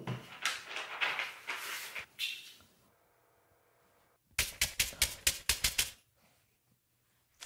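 Everyday objects tapped and rattled to mimic a typewriter, heard as bursts of quick clattering clicks, then a sliding scrape and a quiet pause, followed by a tight run of sharp rhythmic taps near the mic.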